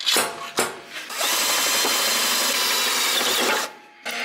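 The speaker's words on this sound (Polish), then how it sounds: "jak wejdę na dół i będę wiercił" A power drill bores inside a car: a couple of short revving bursts, then a loud, steady, high whine that holds for a few seconds before cutting out, followed by one more brief spin.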